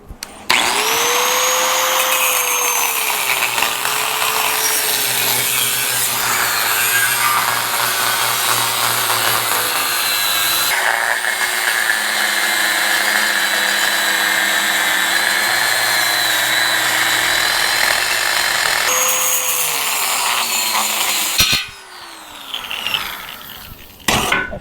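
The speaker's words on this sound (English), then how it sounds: "I'm going to use a cut-off saw." Cut-off saw slicing excess metal from a Himiway electric bike frame, a loud continuous high-pitched grinding whine that dips and rises in pitch as the blade loads and unloads, close by, stopping abruptly near the end.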